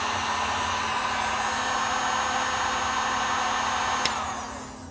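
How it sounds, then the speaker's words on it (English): A hot air gun blows on heat shrink tubing over a foot pedal cable for a ham or CB amplifier, a loud, steady close whoosh and whine that drops off after a click near the end, no voices. "I'm simply going to hit this with some hot air, have our heat shrink set on this"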